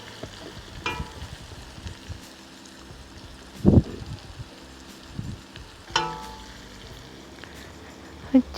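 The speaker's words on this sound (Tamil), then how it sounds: "1 தேக்கரண்டி வெந்தயம் எல்லாத்தையும் சேர்த்து நல்லா வதக்குவோம்." Onions and fenugreek seeds sauté in a pan for an aubergine curry, giving a faint, steady sizzle broken by a few sharp utensil clinks and scrapes, with no voices.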